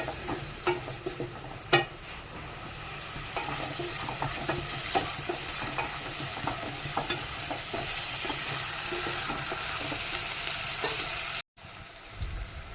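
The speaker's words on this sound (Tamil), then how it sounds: "ஆயில் சூடானோன்னா வெங்காயம் கருவேப்பிலையும் போட்டுக்கலாம்" Onion and curry leaves frying in hot oil, a steady loud sizzle and crackle with occasional stirring scrapes, continuous and close, cutting out briefly near the end.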